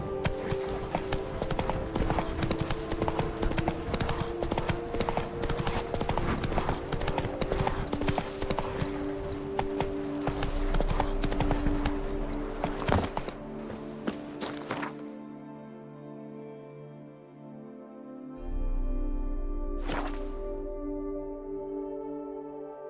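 Horse hooves clip-clop steadily in The Witcher 3: Wild Hunt, Blood and Wine, a dense rhythmic trot for most of the stretch, then fading as a low tone and music take over.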